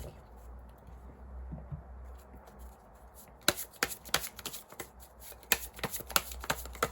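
Tarot cards are shuffled during a Korean reunion-themed reading, first as a soft low rustle and then as a run of sharp, crisp riffling bursts close to the microphone, with no talking.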